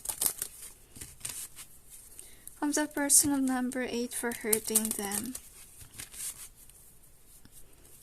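Tarot cards being shuffled in short riffling, crinkling bursts at the start and end, close to the microphone, with someone speaking in between.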